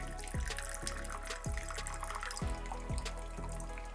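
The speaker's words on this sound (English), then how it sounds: "That is pumping out a lot of water" Water pumping out of a balloon in a science experiment, a steady gurgling flow broken by repeated glugging bursts about every half second, close and continuous.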